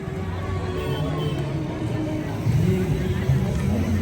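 A drone flies over Krishna Sagar lake in Botad, giving off a constant droning buzz with steady tonal whine that swells slightly in the second half, while someone talks over it outdoors.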